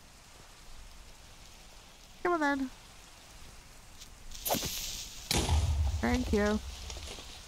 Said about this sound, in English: we've got to be careful because it's bloody raining